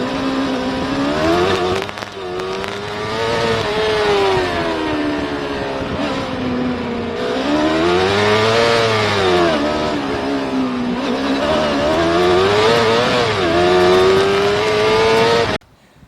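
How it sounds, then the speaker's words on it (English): A Cobra replica's V8 with twin side exhaust pipes burbles and rises and falls through the revs as the car drives, recorded close to the tailpipe, loud and continuous with no talking. "The V8 soundtrack with twin side pipes."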